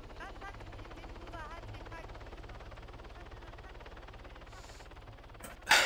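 Helicopter in the Arma 3 video game lifting off, a steady rhythmic rotor thump and whine held at moderate level throughout, with people talking over it and a sharp loud burst at the end.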